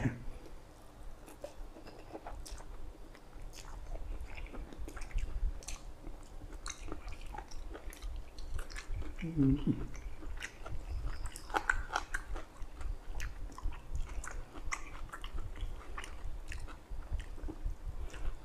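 Chewing of a spicy Thai glass noodle salad with pork belly, soft wet mastication sounds close to the mic, steady throughout with a few brief crunchy bites and faint background voices.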